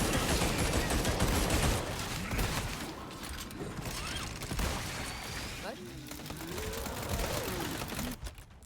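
Dense, loud gunfire from Resident Evil 4 Separate Ways, with rapid shots and bursts layered over game effects and mechanical clatter, and someone speaking French throughout.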